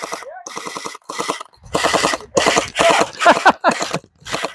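A toy gel blaster fires gel bullets in quick bursts, a run of sharp rapid pops broken by short pauses, close and fairly loud.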